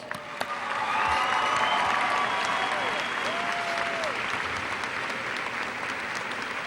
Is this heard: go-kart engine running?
no